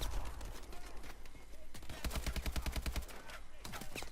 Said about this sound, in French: Évidemment, je tire sur mes ennemis.